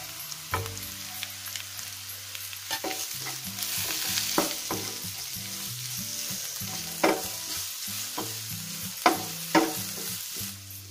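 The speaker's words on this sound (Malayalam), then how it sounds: "വെളുത്തുള്ളി ഇഞ്ചി പേസ്റ്റ് അതും കൂടെ ഒഴിക്കേണ്ട. ഒരു 30 സെക്കൻഡ് ഒന്ന് ചൂടാക്കിയിട്ട്" Garlic ginger paste and ground spices fry in a pan for a cauliflower soya chunk masala, a steady close sizzle broken by repeated stirring scrapes and clinks, with no talk.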